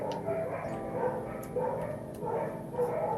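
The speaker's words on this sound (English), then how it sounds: "If you hear my dogs barking," Dogs bark in the background, each bout soft and somewhat distant, returning at regular intervals over a low steady hum, with no talking.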